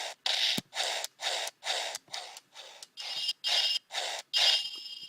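A DX Super Best Double Driver toy belt from Kamen Rider W plays its Metal Memory effect: about ten evenly spaced, breathy whooshing bursts, each a short loud swish with brief gaps between.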